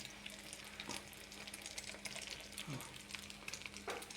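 Bread omelette sizzling in a pan with ghee, a quiet, steady frying crackle with occasional stirring or scraping sounds, heard up close.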